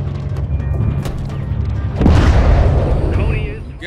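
A missile slams into a SAM site in Modern Warfare 3, a deep low boom erupting about halfway through over a steady rumbling game soundscape, with a faint burst of scattered crackle after the impact.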